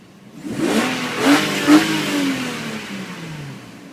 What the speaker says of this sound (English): Now we hear a nice engine.